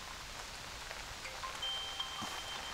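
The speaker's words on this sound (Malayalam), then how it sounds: "കാരണം നല്ല മഴയാണ്, ഒരു രക്ഷയില്ല" Steady heavy rain pouring down on a farm, a constant dense hiss with scattered droplet taps throughout, no voices.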